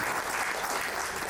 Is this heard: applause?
yes